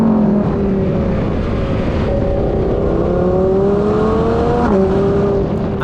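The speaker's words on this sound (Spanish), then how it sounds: "Comparemos el sonido del V10 en los diferentes modos. Así suena en modo Strada." A Lamborghini Huracan Evo RWD Spyder's V10 engine runs in Strada mode with a loud, continuous, smooth drone, its pitch rising and easing slightly as it revs, heard close with no talk.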